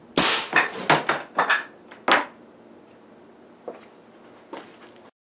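An air cannon at 400 psi fires a quarter-inch steel BB at a water-filled plastic ginger ale bottle, giving a sharp close bang followed by a rapid series of clattering knocks, then a few faint isolated taps.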